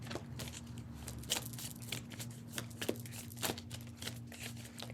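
Tarot cards are shuffled by hand in quiet, soft bursts of riffling and sliding, a run of close crisp flicks and taps at low volume.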